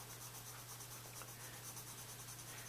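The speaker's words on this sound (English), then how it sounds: "if you get the children to press on really hard with their pencil" A pencil pressed hard while shading on paper gives a continuous faint, scratchy rubbing under a steady low electrical hum, with no talking.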